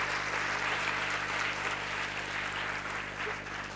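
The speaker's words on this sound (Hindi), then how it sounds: "जोरदार तालियां होनी चाहिए।" Dense, continuous clapping from an audience at an English academy motivational talk, a steady wash of applause at moderate distance under a low constant hum, tapering slightly toward the end.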